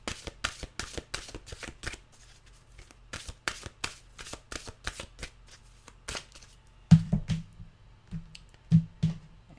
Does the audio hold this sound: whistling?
no